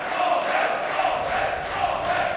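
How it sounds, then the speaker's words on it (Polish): Fight fans in an arena at the AK Fight Night 4 MMA event in Głogów Małopolski chant a fighter's name, a steady crowd roar with rhythmic swells of the chant repeating about every half second. "I słyszymy teraz kibiców Tomka, którzy wiwatują jego imię"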